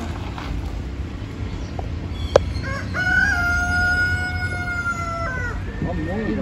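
A rooster crows with a long sustained call, with chickens clucking around it in a rural farmyard near Batumi, Georgia. A sharp knock sounds just before the crow, over steady background noise.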